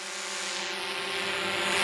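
A drone hovers directly overhead beside a waterfall, giving a steady, loud propeller whine with a constant pitch and a rushing airflow that swells slightly over about two seconds.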